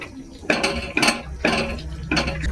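A spoon stirs carrot halwa in a metal pan, giving a run of scraping, clinking strokes that come in a loose, repeating rhythm, close and fairly loud with no talking.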